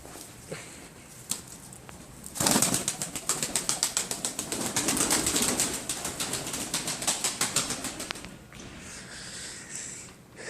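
Rapid wing flapping from a pigeon held close by, a long flurry of quick beats after soft rustling, then some shuffling and quieter movement.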